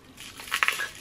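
Plastic wrap on a small trinket jar crinkles and crackles in a brief close burst of a few sharp rustles, quiet overall.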